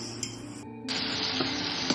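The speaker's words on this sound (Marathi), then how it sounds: "कांदा आणि लसूण फ्राय करून घ्यायचा" Tomato, onion and garlic fry in a pan with a bright, crackling sizzle that drops out for a moment, then surges back louder as the mixture is stirred.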